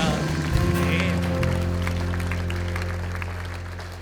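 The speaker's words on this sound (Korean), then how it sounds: "우리 하나님께 영광의 박수 올려드리겠습니다." Congregation applauding during a revival meeting at a church in Atlanta, a steady wash of clapping over a sustained organ or keyboard chord that gradually fades.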